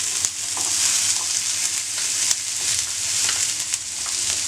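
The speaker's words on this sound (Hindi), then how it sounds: "अब मैं इसको कम से कम 5 मिनट्स तक सौटे करूंगी।" Capsicum and onions sautéing in a pan on a medium flame for a grilled paneer quesadilla, producing a loud, steady, close hiss of frying with a few faint stirring clicks.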